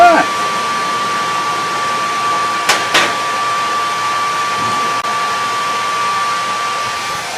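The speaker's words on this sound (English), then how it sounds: "I guess I should have turned this dryer off to knock down that background noise" A clothes dryer runs continuously in the background, a steady broadband hum with a constant whine, interrupted briefly by a couple of sharp knocks near the middle.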